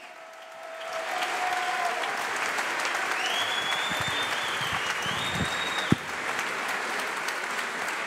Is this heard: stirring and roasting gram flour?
no